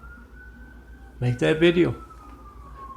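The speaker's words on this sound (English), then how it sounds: "Every time you hear that siren" An emergency vehicle siren wails steadily outside at moderate distance, holding a continuous tone throughout while someone talks loudly over it in the middle.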